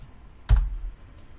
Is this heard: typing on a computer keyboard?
yes